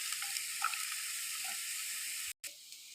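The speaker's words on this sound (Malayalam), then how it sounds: "ഇതിലേക്ക് സവാള ഇട്ട് കൊടുക്കാം." Sliced onion sizzles faintly in a hot pan, a soft steady hiss with a few small crackles, cut by a short gap before the quiet frying resumes.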